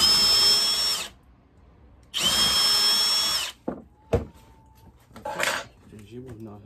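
Two bursts of a power drill whirring loudly into wood, taped bit to limit depth, each about a second long, followed by clicks, handling noises and a brief voice.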